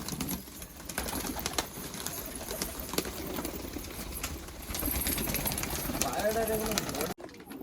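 A crowd of Malwai pigeons coos continuously at close range near Dhamua station, with someone talking over the birds and a brief wing flutter near the end.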